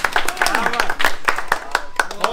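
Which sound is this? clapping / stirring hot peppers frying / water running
clapping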